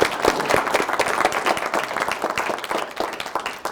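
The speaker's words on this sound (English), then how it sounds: "you need to give yourselves a round of applause" An audience at a press conference claps in a lively, dense round of applause, many hands together, loud and sustained throughout without voices on top.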